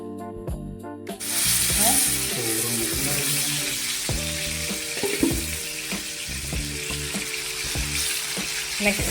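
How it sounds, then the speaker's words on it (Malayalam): Fish frying in a pan for a Kerala-style fish pickle gives a loud, continuous close-up sizzle and crackle with occasional clinks and stirring, steady throughout with no talking. "കൂടെ ചോറിന് കഴിക്കാനുള്ള ഫിഷ് വറുക്കുന്നുണ്ട് കേട്ടോ."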